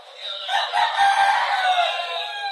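A single rooster crow, loud and lasting a couple of seconds, close by and alone.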